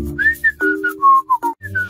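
A person whistling a short tune up close, clear bright notes in a quick melodic run, with no talking.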